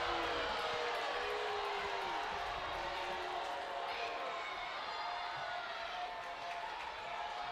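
Softball stadium crowd at a college game murmuring and calling out in steady, sustained disapproval of an umpire's call, a dense wash of many voices at moderate distance with no distinct cheering bursts.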